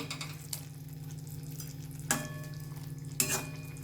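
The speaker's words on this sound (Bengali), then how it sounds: "আর একটু ঘি দিচ্ছি।" Ghee sizzles steadily in a pan of Bengali-style katla fish kosha, a close continuous frying hiss punctuated by a few sharp clinks and scrapes of a utensil against the pan.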